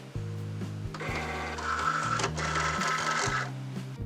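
A Cricut Explore Air 2 cutting machine starting up and running, with stepped motor whirs changing pitch in short segments and a steady mechanical hum, close and continuous with no speech.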